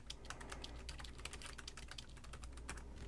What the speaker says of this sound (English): the keyboard feels very nice to type on